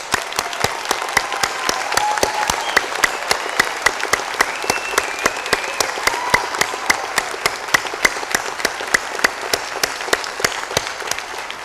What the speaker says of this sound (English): I ask everyone to join me in applauding the Rutgers School of Nursing Camden class